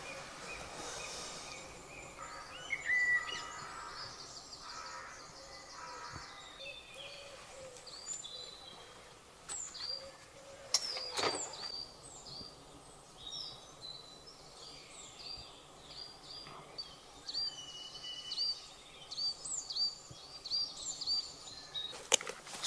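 Birds sing and chirp in woodland around a camp, several overlapping calls and trills at varying distances, with faint insect hum and soft background rustle.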